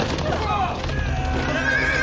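Cavalry horses arriving in a film battle scene, with whinnies and a clip-clop of hooves under a dense, loud score and narration-level voices throughout.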